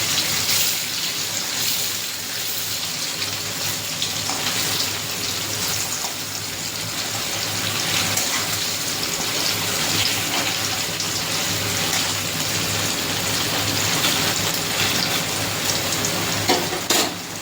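Pieces of paneer sizzle and crackle in hot oil, a continuous close frying hiss with scattered pops and occasional stirring or turning sounds, running steadily without any voices.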